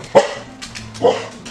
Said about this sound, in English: so she's barking at everything because her ears are very sensitive